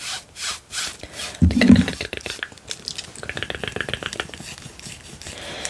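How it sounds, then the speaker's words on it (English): Long nails scratch across a shirt fabric in close-up ASMR, giving soft rhythmic rasping strokes that grow denser and scratchier toward the end. "Just gonna throw in some shirt scratching and whatnot"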